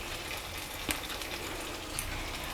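A pan of pepper chicken sizzles steadily as a handful of curry leaves goes in, giving a dense, even hiss with a couple of brief pops, close by and without speech.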